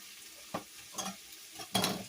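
Mushrooms and fish cook in a pan, giving a faint sizzle with a few soft stirring scrapes in a quiet kitchen.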